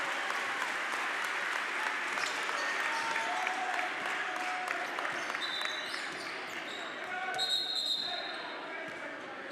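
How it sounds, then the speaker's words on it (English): Basketball fans in a high school gym applaud a player checking out of a Raytown vs Grain Valley boys game, steady clapping and crowd noise with sneaker squeaks and a voice talking over it. "the fans give him a nice round of applause"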